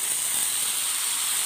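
Loud, steady hiss of eggplant and potatoes frying in hot oil, a dense continuous sizzle close by with no talk.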